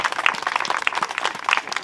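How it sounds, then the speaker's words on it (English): A small outdoor crowd at a library groundbreaking ceremony claps in scattered, uneven bursts, moderately quiet and fairly close, with no talking over it. "Little applause."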